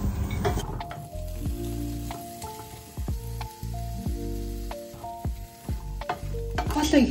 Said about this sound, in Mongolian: Одоо ногоог шарна.